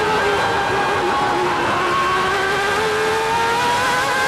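A 1995 Mercedes-powered Formula 1 car engine screams at high revs, a loud sustained whine with slowly rising and shifting pitch, heard from onboard.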